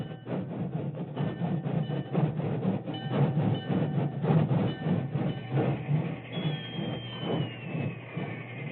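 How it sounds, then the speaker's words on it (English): A work train rolls along the main track beside a telegraph station with a steady, rhythmic clickety-clack and low rumble, fairly close, while a faint high engine whistle drifts in near the end. "an engine whistle announced the work train's arrival on the main track"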